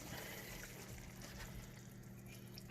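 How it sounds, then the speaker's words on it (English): A cup of plain water poured into a pot of cooking lentils gives a soft, steady liquid rush, faint and continuous for a few seconds, ending with a small knock. "So I'm gonna add plain water. I'll just add the whole cup."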